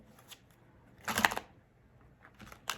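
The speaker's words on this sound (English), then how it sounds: "3 more shuffles for Leo." Tarot cards being shuffled by hand, quiet and close, with a few short riffling bursts separated by pauses.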